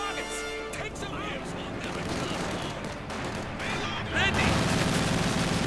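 Gunfire and explosions in Company of Heroes 2, a real-time World War II strategy game, with a half-track shredding a Panzer: busy bursts of shots and blasts layered under a commentator's talk, swelling louder near the end.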